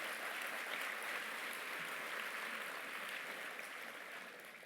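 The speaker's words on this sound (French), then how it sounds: "on peut applaudir André Nicou qui a donné beaucoup de son temps" Steady, dense applause from a municipal New Year's greetings audience in Herblay, sustained throughout and tapering slightly at the end, with no talk over it.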